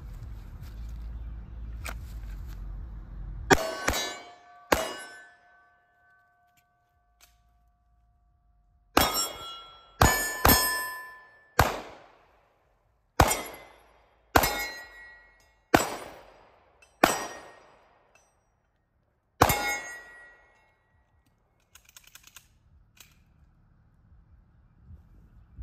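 An H&K 45 pistol fired at steel targets, with about ten sharp shots spaced a second or more apart, each followed by a ringing metallic clang that fades, in an open outdoor range.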